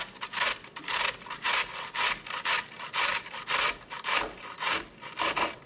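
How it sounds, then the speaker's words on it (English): Cauliflower florets rasped against the coarse side of a hand grater in steady back-and-forth strokes, about a dozen rhythmic scraping passes, close and clear. "Then I use the bigger side and just grate it like this."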